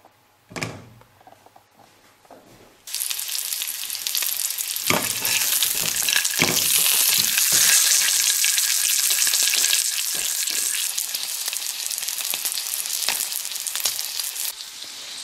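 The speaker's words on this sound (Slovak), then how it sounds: "teraz to trošku orestujeme na masle" Cooked chicken cordon bleu frying in butter in a pan: after a few knocks, a loud, steady broadband sizzle starts and holds for about twelve seconds, with stirring clatter on top and no talking.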